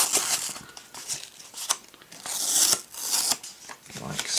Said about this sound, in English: All we've got to do is gently pull it away from the double-sided tape